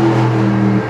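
Mercedes AMG SLS with a 571 hp 6.2-litre engine accelerating hard, a loud, steady low-pitched engine roar heard from inside the car, with no talk.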